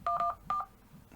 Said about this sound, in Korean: 지금도 계속 다이얼링이죠